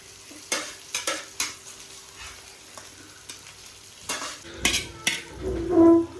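Fried chicken pieces stirred into a sizzling rice mixture in a pan, with a soft fry hiss under a series of spoon scrapes and knocks that grow louder toward the end.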